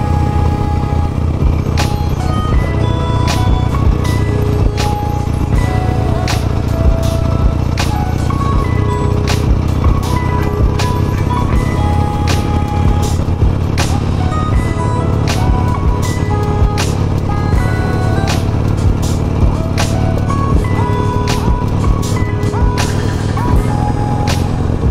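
Riding on an old Harley-Davidson Nightster motorcycle, a continuous loud engine rumble runs throughout, overlaid by frequent sharp clicks and ticks and faint tonal whines, with no talking.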